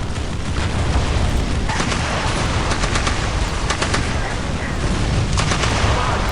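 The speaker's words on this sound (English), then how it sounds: "big artillery firing over your head." Heavy artillery and gunfire roaring continuously in the Warhammer 40,000 strategy game Dawn of War, with the Death Korps of Krieg army in battle, dense and loud with sharp blasts layered over a constant rumble.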